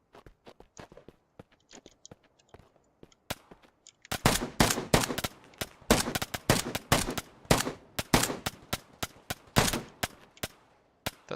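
Sniper AK rifle shots in the game Operation: Harsh Doorstop, faint taps at first, then a steady run of loud sharp single cracks spaced about half a second apart.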